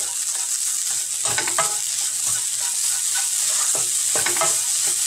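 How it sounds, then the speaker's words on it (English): Jaggery with grated coconut is fried in a pan and stirred until it dissolves, producing a loud steady sizzle with several scraping stirs of the spatula and no voices. "And fry it till the jaggery dissolves."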